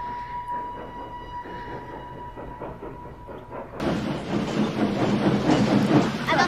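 A train arriving in a scene from the film Schindler's List. A quiet rhythmic rumble with a faint whistle-like tone is followed by a sudden loud, dense roar as it draws near.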